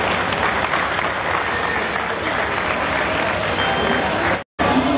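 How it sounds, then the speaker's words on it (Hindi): Railway workers at a gathering give a sustained, dense round of applause to welcome the mayor, loud and even, with a brief dropout near the end. "तालियों के साथ एक बार स्वागत साथियों।"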